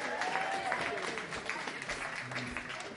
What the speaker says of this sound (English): can we have another round of applause for the poets, please?